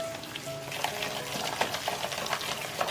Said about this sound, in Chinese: 加入1个蛋清，1大勺淀粉，适量盐，朝一个方向搅拌上劲